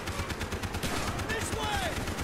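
Rapid machine-gun bursts from Call of Duty: Black Ops, rattling at steady volume through dense game noise with someone talking over the gunfire.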